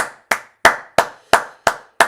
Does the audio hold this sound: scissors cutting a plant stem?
no